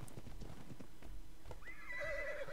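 In ARK: Survival Evolved, a horse's hooves clip-clop in a quick, irregular rhythm, then a clear, high neigh rings out near the end, all fairly quiet over a soft game background.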